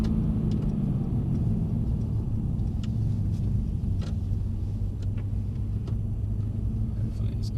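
A Mercedes-Benz C63 S driven on a wet track gives a low, steady engine rumble with faint tyre hiss, continuous and fairly distant throughout.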